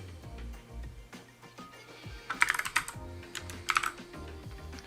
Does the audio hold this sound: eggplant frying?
no